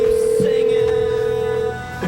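A telephone rings steadily in a skateboarding montage, one long sustained ring tone that cuts off near the end, with faint background noise around it.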